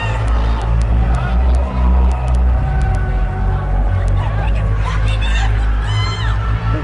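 A loud, roaring crowd at a Josh Cavan vs Travis Peak fight event, a dense wall of cheering and shouting babble that stays steady throughout, with a commentator's voice faintly over it.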